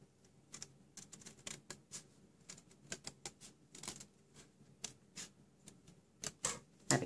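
Card stock being cut for a handmade Stampin' Up! greeting card, giving quiet, crisp clicks and snips in an irregular run close by, with no talking.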